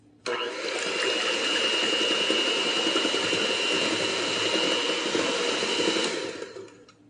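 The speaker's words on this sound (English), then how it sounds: "I'm going to go ahead and mix this a little bit, and then we'll add our cake mix." A steady whirring hand mixer beats wet ingredients in a bowl before German chocolate super moist cake mix is added, running loud and continuous for about six seconds before cutting off.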